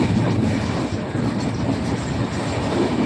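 A passenger train heading toward Howrah in Kolkata rumbles steadily along the rails, a continuous close interior drone with faint rhythmic wheel clatter throughout.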